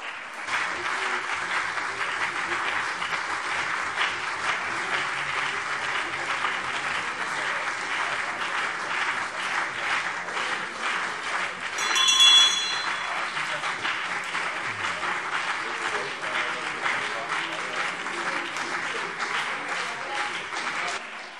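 Sustained applause fills a German parliament plenary session, with many members clapping steadily for about twenty seconds at an even level, with a brief louder swell near the middle.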